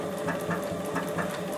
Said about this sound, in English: Remove your pin as the machine stitches over the elastic.